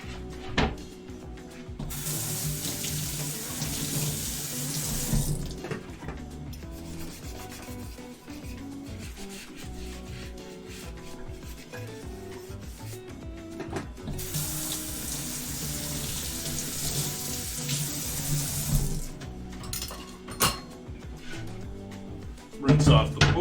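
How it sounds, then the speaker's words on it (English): A cutting board rinsed of raw meat juice under a running kitchen tap while cooking steak au poivre: a steady rush of water mixed with rubbing and scrubbing. It swells louder in two long spells, close up, with no talk. "Rinse off the board. Get rid of all that raw meat juice."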